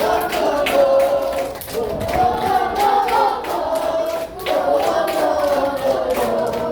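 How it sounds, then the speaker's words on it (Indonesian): Schoolchildren in a classroom clap their hands together, a steady dense patter lasting several seconds, with bright voices singing or chanting over the clapping throughout. "Oke, tepuk tangan untuk semuanya."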